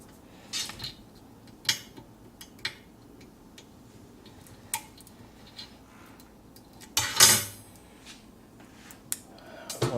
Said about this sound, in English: we're going to remove the little plastic cover here, which we can use just a little knife